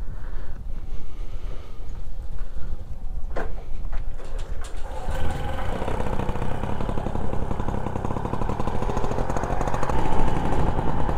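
A Motobécane 51V moped engine starts up after a few rough attempts and settles into a steady, loud, buzzing idle, close by with wind noise over the microphone.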